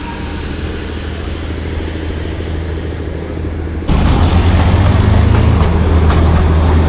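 Darjeeling toy train on the winding route to Rongtong, a loud continuous rumble and rattle of running carriages that abruptly grows louder and harsher partway through.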